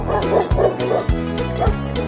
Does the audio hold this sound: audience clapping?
no